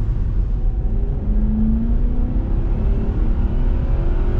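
A V8 Jaguar engine runs steadily in an empty business park, a loud, close, even rumble with a faint rising whine and no other sounds.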